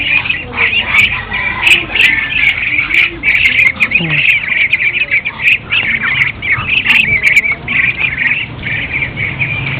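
Ducks near their pen mix with constant chirping birds and insects in a rural yard. Calls and tweets come repeatedly at close to moderate distance, with occasional faint voices in the background.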